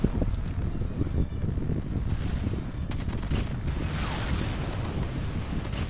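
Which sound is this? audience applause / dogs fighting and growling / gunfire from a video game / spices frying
gunfire from a video game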